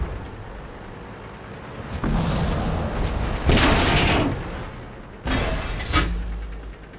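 Tank cannons firing in World of Tanks during a random battle: several heavy booming blasts with long rumbling tails, one loud shot near the middle and another toward the end, over a low engine drone, no talk.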